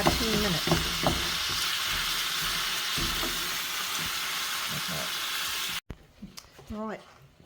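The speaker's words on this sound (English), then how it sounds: "now just mash it all up and then cook it for 10 minutes" A cabbage roll mixture with onion sizzles and fries steadily in a pan, with scraping and mashing sounds over the continuous hiss before it cuts off and a voice speaks briefly.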